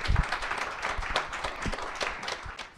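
Steady applause from an audience after a fighting-game match at the Kemonomichi 4 event, a dense wash of clapping with a few louder claps near the start, continuing evenly throughout.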